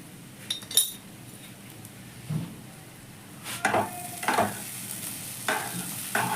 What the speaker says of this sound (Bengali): আমার চালটাও মশলার সাথে খুব সুন্দর মিশে গেছে এবং ভাজা হয়ে গেছে